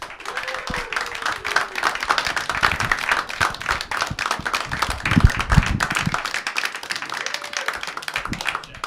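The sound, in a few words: audience applause welcoming a stand-up comic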